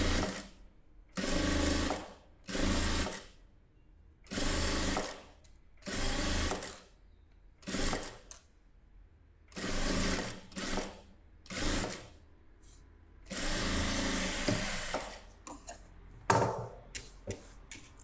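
A sewing machine stitches around fabric piping in repeated bursts of rapid, steady running, separated by short pauses, close and clear with no voices.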